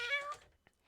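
A single short cat meow sounds close and clear, with a rising-then-falling tone, followed by a faint tap and quiet.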